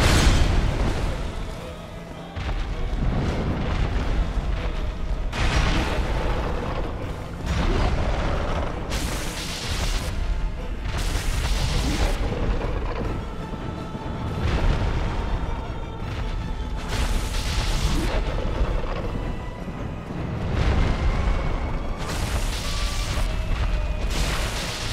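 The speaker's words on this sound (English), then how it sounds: "He's doing that weird explosion bullshit that the other guy did." Repeated booming explosion attacks from an enemy in the Dark Souls video game, a series of loud bursts over a rumbling game backdrop, recurring every few seconds throughout.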